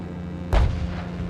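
A single heavy explosion from enemy shelling in war-torn Irpin, Ukraine: one sudden, loud, deep boom with a rumbling tail that fades into a low, steady background hum.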